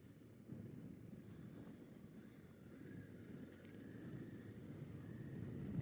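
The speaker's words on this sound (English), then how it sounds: "It's wet. It's windy." Wind buffets and rumbles steadily over a motorcycle rider on a wet, windy ride, a low, continuous roar that builds slightly toward the end.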